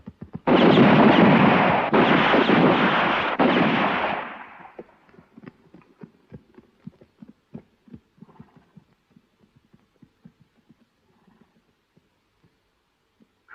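Gunfire in a western film: a loud, dense burst of shots or an explosion fills the first four seconds, then dies into scattered faint knocks and clicks over near silence.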